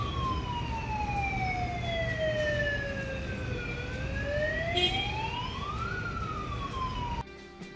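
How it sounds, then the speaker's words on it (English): A warehouse loading siren wails in long rising and falling sweeps, steady and loud with no talk, then cuts off abruptly near the end. "this is what that siren sounds like"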